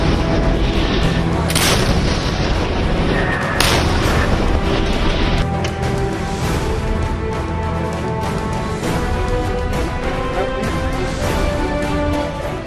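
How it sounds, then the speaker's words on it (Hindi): Indian howitzer artillery gun firing, heavy booming blasts heard over a dense, continuous broadband roar, with sharp impacts near the start and repeated percussive shots through the rest, loud and close. "आज हम आपको आज तक पर एक्सक्लूसिव एक ऐसी हावित्जर तोप की फायरिंग दिखाने जा रहे हैं"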